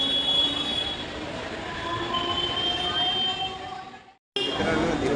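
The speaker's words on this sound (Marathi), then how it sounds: "ट्रेन आली आहे" A suburban train pulls into Ghatkopar station, a loud, steady rumble of rail cars with high wheel squeal running throughout and a brief cut near the end before the noise resumes, with faint talk in the background.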